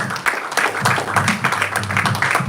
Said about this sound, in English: Please can we give me a round of applause?